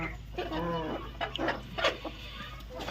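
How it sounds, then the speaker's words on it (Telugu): Country chickens in a shed cluck softly while eating, several short clucks and calls over a low steady hum, with a person's voice nearby. "ఇప్పటివరకు అయితే తింటున్నాయి కోళ్ళు"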